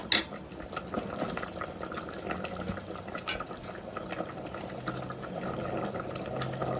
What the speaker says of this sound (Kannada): ಒಗ್ಗರಣೆ ರೆಡಿ ಮಾಡಿ ಇಟ್ಟಿದ್ದೀನಿ, ಅದನ್ನು ಹಾಕ್ತಾಯಿದ್ದೀನಿ